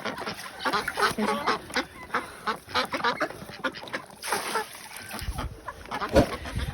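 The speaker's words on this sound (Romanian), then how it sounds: "Și găinile, rățele." Ducks quack and chickens cluck in a busy yard, overlapping calls coming in irregular bursts at moderate distance.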